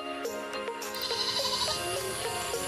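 Goat bleats in a rural Assam village setting, a wavering nasal cry repeated several times close by, with no talking.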